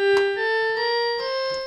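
A Simba children's toy keyboard's synthesized violin voice holds a single long, steady note with a slight waver, thin and electronic, heard alone.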